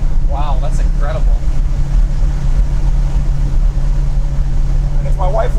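A loud, close 1968 Ford Mustang with a 435 HP engine rumbles at a steady low drone throughout, with brief voices cutting in at the start and end.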